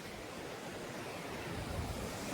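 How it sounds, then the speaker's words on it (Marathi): Ocean waves breaking on Devbag beach make a steady, broad wash of surf that swells slightly toward the end, close and continuous with no voices. "हे बघा ही लाट येत आहे."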